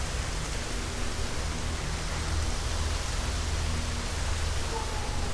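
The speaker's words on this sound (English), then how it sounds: "You may hear some outside noises like dogs barking and definitely the breeze." An outdoor breeze blows as a steady broadband rush that sounds like wind noise on a microphone, continuous and even, with no clear voices.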